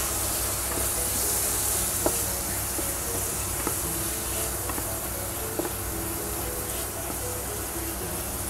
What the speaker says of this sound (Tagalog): At halu-haluin lang natin guys.